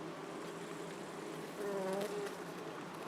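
Honey bees hum around a Ukrainian beehive at an apiary on a hot late-August day. The buzzing is a steady, close drone that rises briefly in loudness near the middle of the clip.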